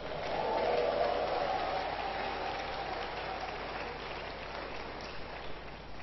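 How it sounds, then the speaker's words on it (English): Church congregation clapping hands in praise, a steady wash of many palms heard from some distance, swelling early and then settling into an even, continuous patter. "today we are clapping hands and shouting to him"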